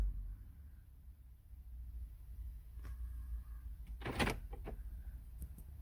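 A muffled thunk of a BMW's door lock engaging, followed by a couple of faint beeps or clicks, over a low steady background rumble.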